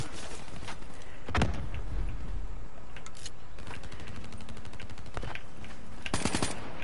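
Bursts of automatic gunfire in Call of Duty Black Ops 3 multiplayer, including shooting underwater, sharp rapid volleys at several points amid game ambience.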